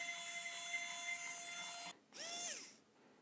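Small electric screwdriver whirring steadily while an AMD CPU cooler's stock bracket is removed, then a brief rising-and-falling motor burst after a short pause, close and fairly quiet with no talk.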